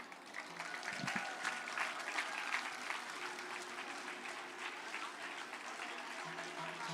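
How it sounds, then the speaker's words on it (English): An audience at an international unity event in Geneva gives a sustained round of applause, a steady dense patter of many hands clapping at moderate distance, holding at an even level for several seconds with no talk over it. "So please give yourselves a round of applause."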